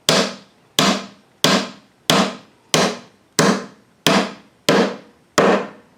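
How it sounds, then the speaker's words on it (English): Hammer blows driving a part into a wooden birdhouse, eight sharp, evenly spaced strikes about 0.65 seconds apart, each loud and close with a quick ringing decay, no voices between them. "Yeah, just have to hammer it in."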